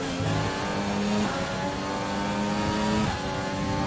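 Lando Norris's McLaren Formula 1 car in the F1 2020 video game roars past at close range, its high engine note rising and dropping through gear shifts, loud and alone.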